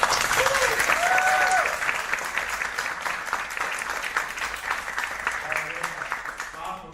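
An audience applauds at a live presentation, dense sustained clapping filling the room for about seven seconds, strongest early and gradually thinning toward the end.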